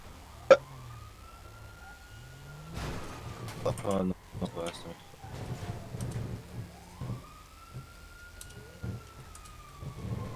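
Police car siren in a video game roleplay, wailing up and down in long sweeps behind excited chatter, with a sharp click near the start.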